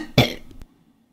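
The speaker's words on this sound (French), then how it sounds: "Boudinet commence par tousser." A single sharp cough, loud and close, with a short fading tail and no other sound around it.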